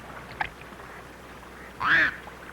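A single mallard duck quacks once at moderate distance, a short raspy call over quiet outdoor background, preceded by a faint click.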